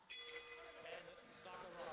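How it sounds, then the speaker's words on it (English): A ringing round bell sounds through a mixed martial arts fight broadcast, its tone sustained over crowd and commentary noise. "There goes another bell."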